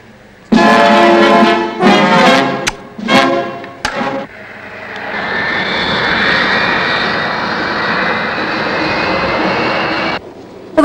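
Aeroflot passenger airliner on a flight from Odessa to Khabarovsk, its engines giving a steady, loud broadband roar inside the cabin that follows a few seconds of other sharp, tonal sounds.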